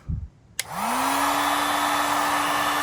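A heat gun switches on and blows steadily, heating the seized aluminum-bound shift shaft of a Honda CL350 motorcycle; a brief clunk precedes a loud continuous whooshing roar with a rising motor whine that settles into a constant tone.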